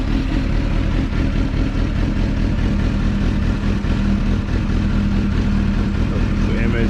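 A sportbike engine with a standalone ECU runs after a cold start, a loud, steady, close idle rumble holding even throughout without clear revving.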